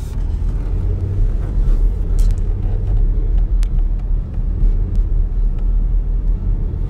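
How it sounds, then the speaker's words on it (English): Road traffic on Las Vegas Boulevard on the Strip during the shutdown, a steady low rumble of passing cars heard from inside a moving vehicle, with occasional brief clicks and knocks. "This side has more traffic."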